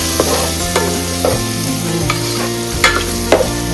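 Chili and garlic sautéing in a pan for beef soup, a steady close sizzle and fry with a few sharp stirring scrapes and clinks against the pan, no talking.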